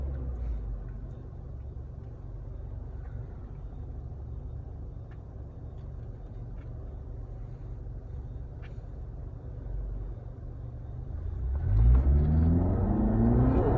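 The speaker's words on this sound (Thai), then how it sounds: "เสียงเครื่องยนต์" A remapped Toyota Camry 2.5 engine rumbles low and steady, then revs up sharply near the end, the pitch climbing as it accelerates.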